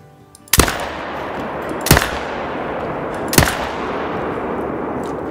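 Three loud, sharp Zarza 308 rifle shots at fallow deer in the hunting game Call of the Wild, spaced about 1.4 seconds apart, each followed by a rumbling echo that trails off, with no speech.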